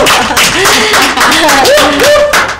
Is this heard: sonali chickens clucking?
no